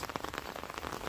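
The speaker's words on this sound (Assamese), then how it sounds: "বৰষুণ দি আছে" Rain falls outdoors near open fields in a brief, soft, even patter of drops on the ground and nearby surfaces.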